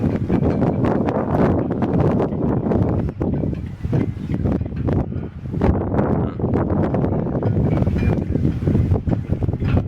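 Strong wind gusting and buffeting continuously, a loud roaring rush with rising and falling surges, no voices.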